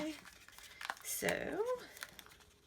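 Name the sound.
peeling off washi tape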